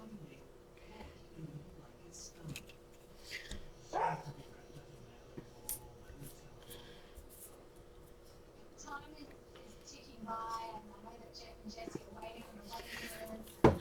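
Dog named Chuck barking and whimpering a few times indoors, faint and at a distance, wanting to go out, with quiet handling noises of card-making between the short barks.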